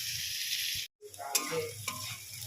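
Onions frying in a pan sizzle steadily, with a brief break in the middle and a few clinks of stirring, fairly close.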